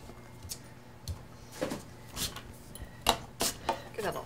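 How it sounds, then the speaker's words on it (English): A knife cuts a lemon on a board in a kitchen: a series of sharp chops and taps, several spaced strokes growing quicker toward the end, with quiet room noise between. "Now then, I'm going to cut a lemon."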